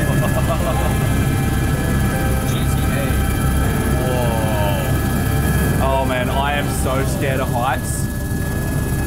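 Loud, steady engine and rotor roar fills the cabin of a helicopter flying over Tokyo, constant throughout while people talk over it.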